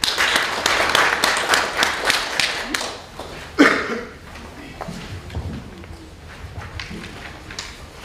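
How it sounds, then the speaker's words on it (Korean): Applause from a seated audience at an indoor public debate forum in Gyeongnam, a dense burst of clapping for about three seconds that fades out, followed by quieter scattered taps, shuffling and faint room sounds. "박수로 모셔주십시오."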